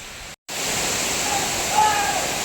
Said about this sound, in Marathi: ह्या पूर्ण इथे खाली धबधबा येतोय